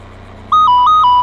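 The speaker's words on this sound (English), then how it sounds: "Sorry, that's my phone going off." A mobile phone ringtone starts abruptly and plays a short, bright electronic melody of alternating beeping notes, loud and close over a low background hum.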